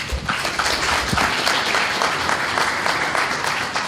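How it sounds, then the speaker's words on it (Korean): A seated audience at a party's joint campaign rally in Busan applauds to welcome invited dignitaries as each is introduced. Dense, steady clapping fills the whole stretch at an even, loud level, with no talk over it. "소개할 때마다 힘찬 환영의 박수를 부탁드리겠습니다"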